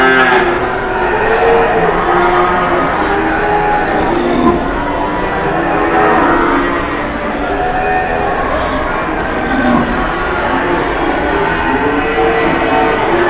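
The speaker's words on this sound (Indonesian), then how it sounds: "Kita di pasar Penambaro bersama sapi geringan ini yang lucu banget ya tanduknya" Geringan cattle low at the Penambaro livestock market amid constant crowd murmur, with moos rising and falling over the busy, loud market noise.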